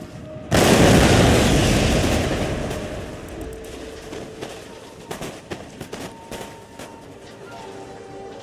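Cannons fire canister shot in a Total War: Empire battle as England, a loud booming volley that rolls off into a long rumble, followed by scattered distant pops and crackles of further fire.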